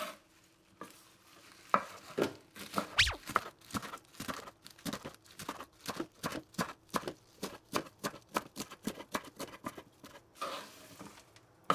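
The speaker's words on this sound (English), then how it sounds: "give it a few slices down the middle like that, and then start chopping away" A knife chops vegetables rapidly on a board, a long run of sharp, close taps in a steady, quickening rhythm.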